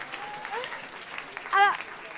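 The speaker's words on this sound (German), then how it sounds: "Riesen Applaus für Felix." A comedy club audience applauds a guest named Felix, a faint spread of claps sitting under a talking voice.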